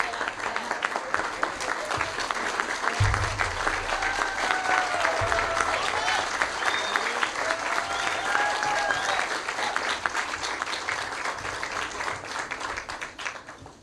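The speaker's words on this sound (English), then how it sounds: "Stand on your feet and give this governor a round of applause." Sustained, loud applause from a large crowd, a dense wash of clapping that continues steadily for the whole stretch, with some cheering mixed in.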